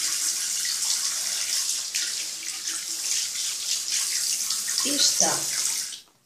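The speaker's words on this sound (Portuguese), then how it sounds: "Agora vou enxaguar" Tap water runs steadily into a sink while a clay face mask is rinsed off, a close, continuous splashing hiss with hands briefly disturbing the stream before it cuts off; a voice speaks briefly over it.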